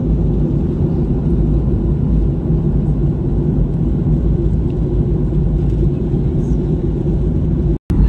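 Steady low engine rumble from inside an airplane cabin as it comes in to land at Kochi, a continuous droning roar with no speech, ending with a brief cut.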